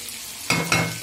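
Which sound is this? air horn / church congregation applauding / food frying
food frying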